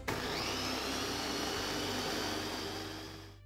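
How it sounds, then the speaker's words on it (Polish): Blender or mixer pureeing washed, cut strawberries, a steady whirring motor drone held at an even pitch for a few seconds before winding down, fairly quiet and heard alone. "Następnie miksujemy mikserem albo blenderem."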